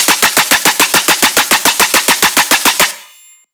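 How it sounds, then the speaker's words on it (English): A punchy metallic machine-gun dubstep bass built in the Serum synth fires a steady rapid-fire train of loud, evenly spaced hits for about three seconds, then stops abruptly with a short ringing tail; no voices. "Really punchy metallic bass"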